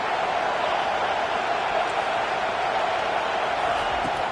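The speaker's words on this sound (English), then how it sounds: "Listen to this crowd just shaking the girders of this place" A stadium crowd at a Razorbacks football game roars in a dense, steady, loud wall of noise that shakes the building, sustained without a break while a defense tries to hold.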